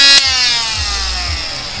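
Cordless 12-volt lithium mini angle grinder with 3-inch discs, a sharp high whine that starts loud and close after a brief click, then slowly winds down in pitch as it spins out.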